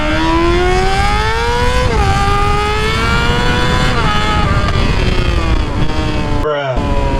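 Motorcycle accelerating hard, close and loud: a rising engine whine climbs steadily through gears with short pitch drops at each shift, continuous for several seconds before a brief cutoff, with wind noise and no talking.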